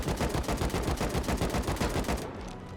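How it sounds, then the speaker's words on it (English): A shotgun trap in a factory-building video game fires a fast, evenly spaced string of sharp blasts for about two seconds, then stops abruptly, leaving a faint tail. "Straight into the core. Shotgun trap."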